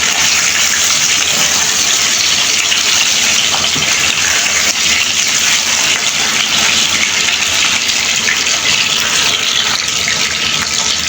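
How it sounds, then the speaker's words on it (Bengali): Pabda fish fry in hot oil with a loud, continuous, close sizzle that holds evenly from start to finish, with no voices over it. "তো মাছগুলো ভেজে নিচ্ছি।"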